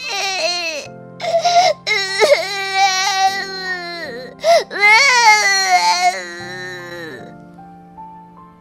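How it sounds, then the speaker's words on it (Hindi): A baby girl cries and wails in long, rising sobs with brief breaths between them, loud and close, with no other sound around her. "उसे एक बच्ची के रोने की आवाज सुनाई दी"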